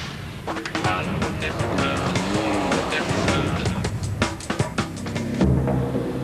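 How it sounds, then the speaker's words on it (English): A BMW rally car races on a stage of the 2009 Dakar Rally with a loud, rough engine roar and rising and falling revs, while a commentator talks over it. "Now here is the Dutch driver Kuipers in his BMW."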